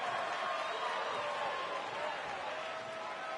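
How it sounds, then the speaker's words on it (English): A big crowd at a wrestling show roars and cheers as a steady wash of noise, loud and continuous throughout, with no clear single voices standing out. "Listen to this crowd."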